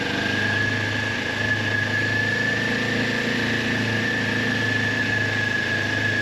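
A motorcycle engine in first gear turns over at low revs with a steady, continuous mid-range drone and a faint tonal whine, held close and constant with no talking.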